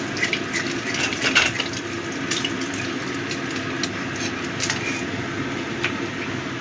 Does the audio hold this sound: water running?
yes